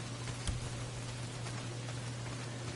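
Heavy rain pours steadily in the video game Days Gone, a dense, even hiss that holds without pause over a faint low hum.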